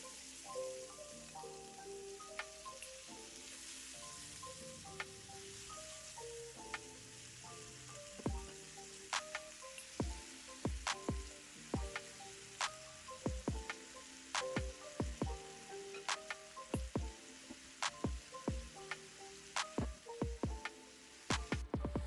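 Beef pieces frying in a pan over a medium-low flame for a Jamaican beef and broccoli dish, giving a steady crackling sizzle with scattered sharp pops that grow more frequent, close and moderately loud, with no talking.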